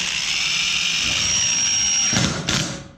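A DeWalt power drill runs down bolts and nuts fixing aluminum spacers and washers on a large metal sign, a steady high whirring spin for about two seconds ending in a brief clattering burst, close and loud.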